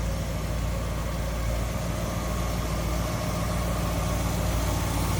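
A 1956 DeSoto Firedome V8 idles steadily and smoothly under an open hood, a continuous close, even rumble with no talk.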